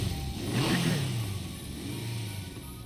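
A motorcycle engine in a parking lot rises in a throaty rev, its pitch climbing and falling before settling into a steady mid-pitched idle, close and fairly loud with no talk.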